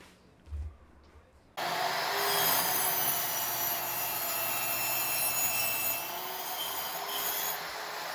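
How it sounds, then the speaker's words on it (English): A power saw cuts 45-degree miters on the ends of Formica laminate countertop backsplash strips, starting abruptly with a loud, steady whine that holds for several seconds before easing slightly. "we're going to miter each end at 45-degree angles"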